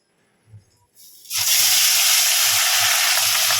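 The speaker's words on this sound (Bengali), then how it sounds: "কড়াইতে সর্ষের তেল দিয়েছি মাছগুলোকে ভাজবো বলে" After a couple of soft knocks, a loud, bright sizzle suddenly erupts and holds steady as fish hits hot mustard oil in a kadai, with faint low thuds beneath.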